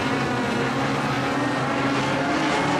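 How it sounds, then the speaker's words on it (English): Modified sedan race cars roar around a dirt speedway at Kingaroy Speedway, a loud, continuous engine drone with no breaks. "And Galley is absolutely motoring."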